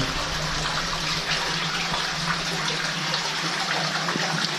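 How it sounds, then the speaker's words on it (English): A river stream in a cave rushes steadily into a hole, a loud, dense, continuous gush of running water close by with no voices. "there goes the river stream. Runs all the way"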